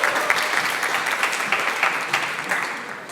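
An audience at a hackathon's final demos applauds steadily, a dense, even wash of many hands clapping close by, with no talk over it.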